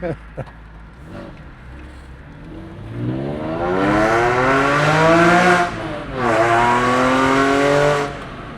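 A Porsche 996 911 sports car with a Slakker 4.1L engine revs hard, rising and falling in pitch through two long loud pulls, with a brief pause between and faint voices at the start.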